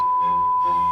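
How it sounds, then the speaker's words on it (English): A single steady pure sine tone holds at one pitch for about a second, clean and constant. "A pure tone sounds like this"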